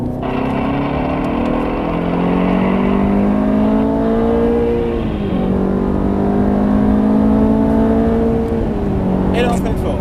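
A race car engine drones loudly and climbs steadily in pitch as it accelerates on a track, easing briefly midway before rising again, heard from inside the car.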